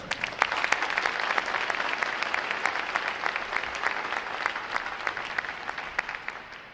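Loud, steady applause from a large crowd at a U.S. Navy recruit training boot camp graduation, dense clapping continuing unbroken from start to finish.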